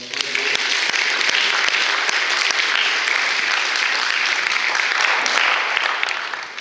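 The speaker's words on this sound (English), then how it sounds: "Let's give them a round of applause." A chapel congregation applauding steadily, dense and sustained clapping from many hands throughout, fairly loud and even with no pause.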